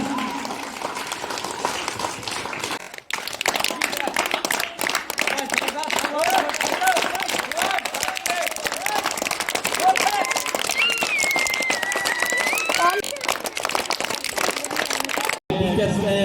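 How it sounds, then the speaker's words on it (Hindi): A school farewell audience claps at length, broad sustained applause from a crowd with voices talking over it and a brief dip partway through. "तालियां तालियां, बहुत जोरदार।"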